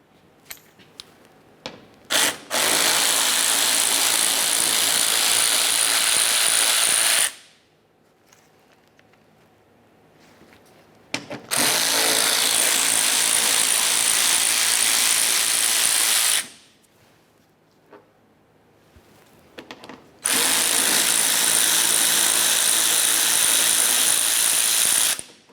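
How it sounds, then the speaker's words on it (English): A ratchet tool backs out 8mm bolts from the front bumper shield of a 2001-2005 Ford Explorer Sport Trac, in three long, loud buzzing bursts separated by quiet pauses filled with faint handling clicks. "we're going to have to remove the three 8mm headed bolts that hold the bumper cover to it"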